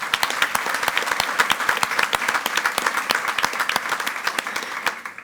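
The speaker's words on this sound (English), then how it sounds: "Let's give her another round of applause and welcome." Brisk, close applause from a school board meeting audience welcoming a new coordinator, many sharp claps in a steady patter that fades out at the end.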